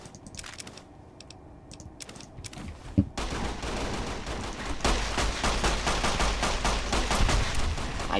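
Rapid bursts of gunfire from a modded gun in Fallout: New Vegas, a dense crackling rattle after a quiet opening with one sharp shot, loud and continuous through the second half with no talking.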